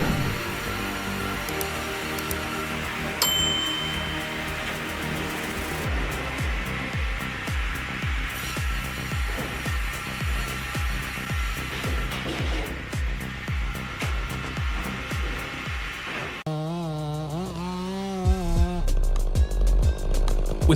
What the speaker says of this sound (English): she wields her chainsaw with the confidence of a true craftsman